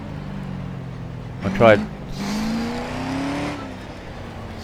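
A Holden V8 engine in the racing game Grid Autosport, a steady engine drone that rises in pitch as it accelerates, with someone talking over it.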